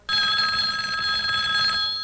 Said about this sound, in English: That might be the phone. It is the phone.